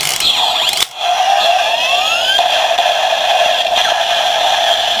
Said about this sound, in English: We'll get the standby noise again.